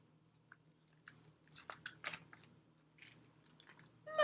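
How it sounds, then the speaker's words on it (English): An alligator munching and chewing at bedtime, heard as a run of soft, irregular crunchy bites spread across a quiet background with a low steady hum. "Munch, munch, munch, munch, munch."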